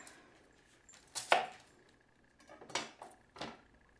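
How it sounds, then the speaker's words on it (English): A knife slicing a small white onion into strips on a cutting board, a few distinct crisp chops spaced irregularly, close and clear with quiet gaps between, no voices. "just basic white onion. Peeling it away. And again, just cutting it into strips."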